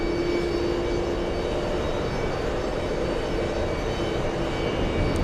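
A JetBlue airliner arriving at JFK airport gives off a continuous even engine roar with a faint steady whine above it, heard alone.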